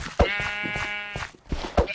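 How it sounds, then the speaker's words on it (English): A Minecraft sheep gives a clear, near bleat with a wavering harmonic tone, framed by sharp in-game thumps and hits before and after. "and there are my sheep. I am so sorry, sheep."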